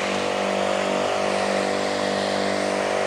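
A Patriot PT-12AS motorized sprayer running with a strong spray stream. Its small engine gives a loud, constant buzzing whine that stays steady throughout, with no pauses.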